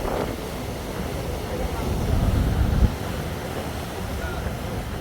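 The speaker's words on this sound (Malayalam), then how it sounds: "കടലിൻ്റെ ഇരമ്പൽ" Steady roaring surf of the Arabian Sea at Kochi with wind rushing over the microphone, a continuous broad wash swelling briefly before easing back.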